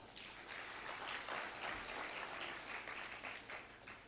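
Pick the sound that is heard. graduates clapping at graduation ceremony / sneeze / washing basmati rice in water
graduates clapping at graduation ceremony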